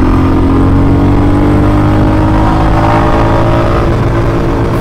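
Royal Enfield Classic 350 and Yamaha R15 V3 motorcycles accelerating hard in first gear during a drag run, a loud, continuous engine roar with a steadily rising pitch and no talking.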